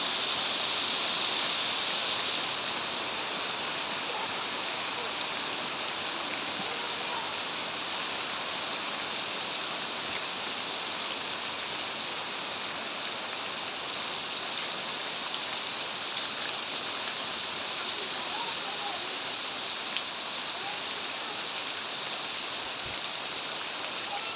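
Steady rain falls on surfaces outdoors, an even moderate hiss with faint scattered drops that holds constant throughout with no talking.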